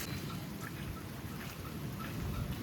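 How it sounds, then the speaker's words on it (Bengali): Steady rain falls during a storm, with a low, rumbling undertone of thunder. The whole scene sounds faint and distant, with no voices. "প্রচুর বিদ্যুৎ চমকাচ্ছে, আরও মনে হয় জোরে নামবে। হালকা একটু কমেছে বৃষ্টি"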